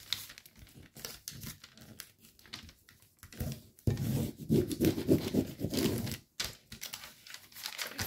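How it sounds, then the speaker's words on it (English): A sheet of paper is folded in half and creased by hand for an origami helicopter, with close crinkling, rubbing and brief rustles that come in uneven bursts and are heard without talking. "you can fold the paper in half and fold the other side to match"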